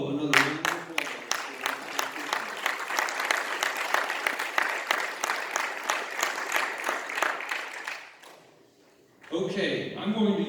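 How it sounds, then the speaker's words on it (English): An audience at a talk on Christianity and character in US education gives a sustained round of dense applause that fades out, followed by a voice speaking. "So I think we owe another round of applause."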